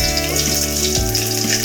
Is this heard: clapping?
no